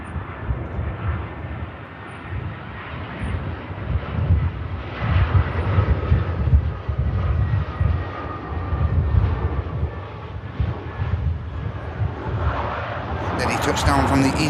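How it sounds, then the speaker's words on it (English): EasyJet airliner arriving from Madrid touching down at Manchester Airport, a moderate rolling engine roar that swells and fades, with talk faintly over it. "Touchdown from the EasyJet from Madrid on the Madman route"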